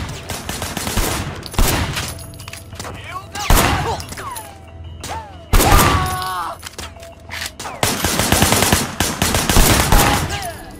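Bursts of automatic gunfire and single shots from the video game Sleeping Dogs crackle in several loud volleys, with pauses between them and game voices and effects mixed in.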